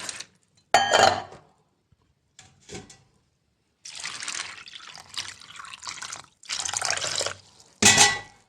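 Items are rinsed under running tap water in a sink, with bursts of flowing, splashing water broken by short pauses and a few clinks, close by and moderately loud.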